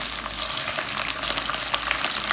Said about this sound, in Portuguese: agora eu vou deixar ele aqui fritando